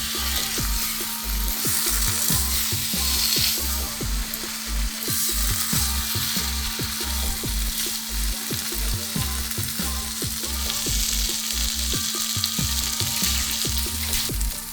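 Taro stems frying with hilsa fish, ground fennel and ginger make a dense, continuous sizzle close up, with a steady rhythm of spatula scrapes and knocks against the pan throughout and no speech.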